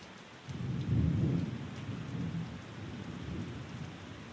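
Steady rain falls with low rumbling thunder rolling through, a soft continuous downpour under deep distant booms, with no voices.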